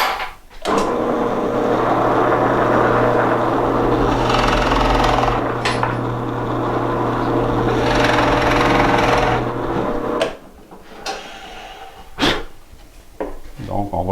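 A power drill bores a large-diameter hole, running loud and steady for about ten seconds before cutting off, then a few short bursts and knocks follow.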